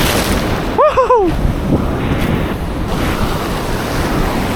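Big ocean waves at sea heard from a fishing boat off Bolinao: steady broadband surf and wind rumble fill the clip, with wind buffeting the microphone and a brief high whooping voice near the start.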